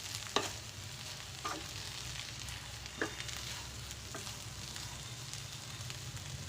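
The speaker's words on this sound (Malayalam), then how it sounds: "നന്നായിട്ട് നമുക്ക് ഇളക്കി കൊടുക്കാം." Methi bhaji sabzi of fenugreek leaves being stirred in a hot pan: a soft, steady sizzle under a few scattered scraping clicks from the spoon, fairly faint and with no talking.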